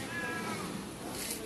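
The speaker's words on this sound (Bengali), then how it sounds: "ওরা রাস্তার বিড়াল" A hungry stray cat outdoors after rain gives a faint, drawn-out meow against steady background hiss, heard at a modest distance.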